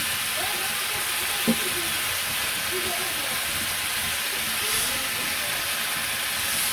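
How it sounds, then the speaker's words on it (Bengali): Oil poured into a hot kadai gives a steady, broad hiss up close, with a faint voice murmuring in the background. "কড়াইটা গরম হয়ে গেছে, তেল দিয়ে দিলাম"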